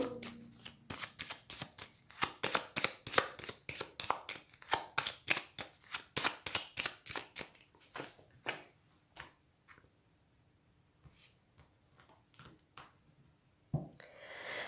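Tarot cards being cut and shuffled on a table, a long run of rapid rhythmic riffling slaps close by, then scattered softer card taps and one final louder flick near the end.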